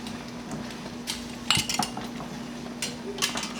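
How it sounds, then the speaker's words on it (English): Metal tongs lifting glass canning jars out of a pot of simmering water for blueberry jam: sparse metallic clinks and knocks from close by, with a low steady hum underneath. "I use tongs to remove the jars from the bucket where it's simmering"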